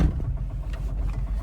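A Ligier JS50 licence-free microcar with a diesel engine runs after starting, giving a steady, close, vibrating low rumble that holds at idle with no talk over it.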